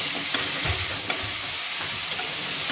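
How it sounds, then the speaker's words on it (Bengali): Carrots sizzle and fry in a pan, a steady close hiss with occasional stirring scrapes and soft pops throughout, no voices. "গাজরটা একটু ধুয়ে ভেজে নিলাম"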